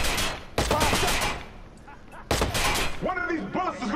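Sharp, loud gunshots in Watch Dogs fire in rapid bursts, a heavy volley up front and another loud blast later, with a voice speaking near the end.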